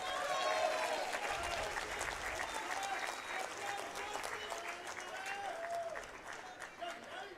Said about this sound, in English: let me hear a nice round of applause for both these competitors